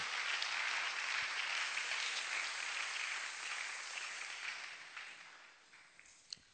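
A church congregation claps through a Christmas service, a dense, steady wash of applause from many hands that gradually thins and softens toward the end, with one sharp clap standing out near the close.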